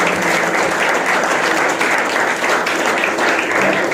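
A church audience applauds loudly and continuously, a dense wash of clapping with no pause and no speech over it.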